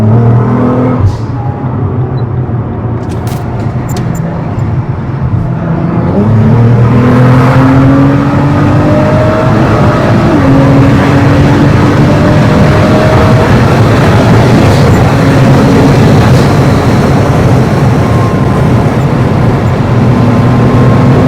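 A 2012 Nissan GT-R R35 engine drones steadily while driving, rising in pitch as it accelerates through gears, heard loud and continuous from inside the car with no talk.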